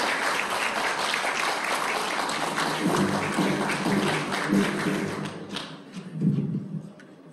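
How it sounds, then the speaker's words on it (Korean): An audience at a forum gives sustained applause as Ahn Cheol-soo is welcomed to the podium, dense clapping that gradually thins and fades, with a few thumps near the end. "여러분 큰 박수로 안철수 의원님을 연단으로 모시도록 하겠습니다."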